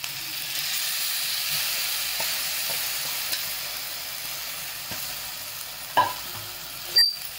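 Rice and vegetables fry in a pan for veg pulao, making a steady, even sizzle with only occasional faint stirs, then a couple of sharper scrapes near the end.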